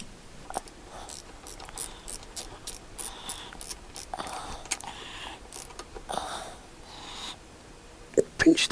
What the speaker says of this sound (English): Pinch that back up with a socket,